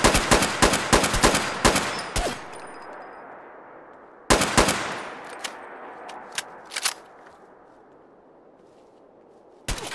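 An automatic gun fires in Fallout 4, with rapid bursts of loud shots followed by echoing tails, a pause, then another burst and a few isolated shots.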